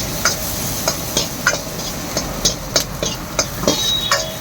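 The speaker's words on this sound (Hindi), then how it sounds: "तो इसको अच्छे से भून लेंगे" Ginger and garlic fry in oil in a thin-walled kadhai wok, with a steady sizzle under repeated sharp clicks and taps of a spatula stirring against the metal.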